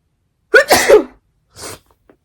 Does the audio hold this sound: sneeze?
yes